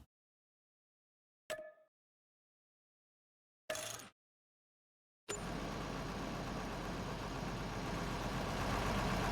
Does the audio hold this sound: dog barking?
no